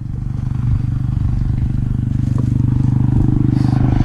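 A 2011 Ford pickup truck engine running through a straight 4-inch exhaust, giving a loud, steady, deep rumble that throbs low and close throughout.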